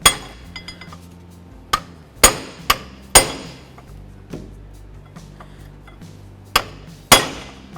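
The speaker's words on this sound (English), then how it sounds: "Just give it a couple loving bonks and see if we can get it in there." Several sharp metal hammer blows on an alternator tensioner bracket, struck singly and in pairs at irregular intervals, each ringing briefly over a low background hum.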